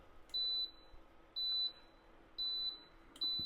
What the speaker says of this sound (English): That's going to go ahead and beep, give me a audible warning.